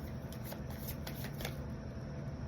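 Tarot cards being shuffled by hand in a quiet room, a soft steady riffling that runs throughout the short stretch at low volume.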